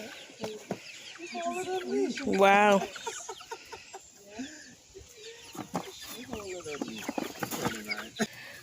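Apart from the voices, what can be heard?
chickens clucking on a goat farm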